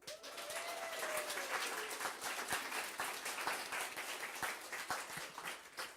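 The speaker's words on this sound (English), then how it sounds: "We are going to give a huge round of applause to our panel." An audience gives the panel a long round of applause, a continuous wash of many hands clapping at moderate distance, with a brief tonal whistle-like sweep early on.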